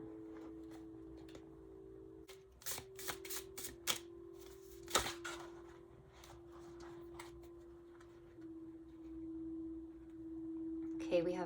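A second tarot deck shuffled by hand, with a cluster of sharp card slaps and riffles in the middle and a steady tonal hum throughout, no talk.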